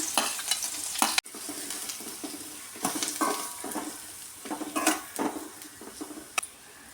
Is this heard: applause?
no